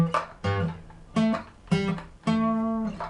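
A guitar plucks a short bass-note line in separate, ringing notes with pauses between them, close and clear, with no talking.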